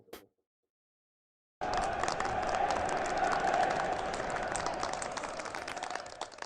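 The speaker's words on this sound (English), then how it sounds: "Sol and the Lycan warrior shake hands to enthusiastic applause from the surrounding crowd" Enthusiastic applause from a surrounding crowd in the game Tokyo Afterschool Summoners, starting abruptly after a brief silence and holding as a steady, dense wash of clapping and cheering to the end.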